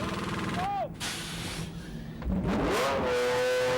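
Yellow McLaren sportscar leaving its final pit stop, a loud engine roar that drops and then surges again as it accelerates away, with a race commentator talking over it.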